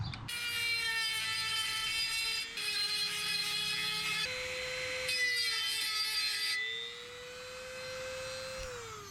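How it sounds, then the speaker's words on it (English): A Dremel rotary tool screams at high pitch as it grinds down a flap wheel during a Mazda Miata restoration, its steady whine shifting speed several times, close and loud, then easing lower near the end. "It's kind of just eating through the flap wheel."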